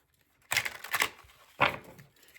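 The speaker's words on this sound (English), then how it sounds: "we're going to ruffle shuffle them." A deck of playing cards being riffle shuffled, heard as two close, crisp fluttering bursts of card riffling, the second shorter, with no talking.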